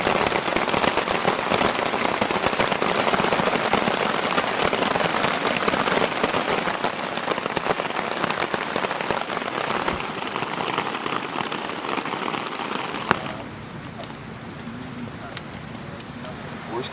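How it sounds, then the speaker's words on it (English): Hail patters steadily on an outdoor surface during a July monsoon storm in the Colorado Rocky Mountains, a dense, continuous drumming that softens and thins after about thirteen seconds. "it started hailing like it is right now"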